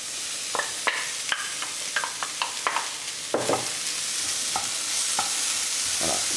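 Onions frying in a pan alongside small pieces of pork rind, a steady crackling sizzle broken by a run of sharp scrapes and taps as they are stirred, close and alone with no voices.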